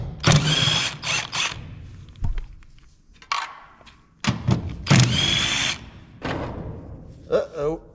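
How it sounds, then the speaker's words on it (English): An impact wrench backs off half-inch studs on the rotor of a Gleaner R52 combine, firing in loud close bursts of rattling hammering separated by pauses, with someone talking in between. "Grab your handy dandy impact and start taking these studs off."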